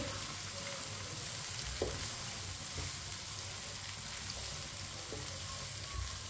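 Chopped onion and garlic fry in oil with cumin seeds, giving a steady low sizzle with a few soft scrapes and taps of stirring, no voices.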